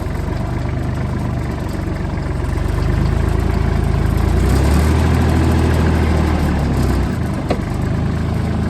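A tractor engine idles and rumbles steadily up close as it backs toward a trailer, with a deep, continuous low drone that swells slightly in the middle.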